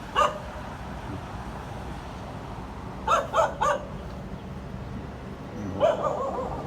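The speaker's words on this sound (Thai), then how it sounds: "หมาเห่า" Distant dog barks in Bangkok scattered over a quiet outdoor ambience: one early bark, a quick cluster of three, then a final bark.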